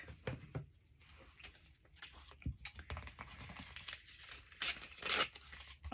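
Scissors cutting pieces out of a catalog page: quiet, irregular snips and paper rustles with soft crinkling, closer and a little louder near the end.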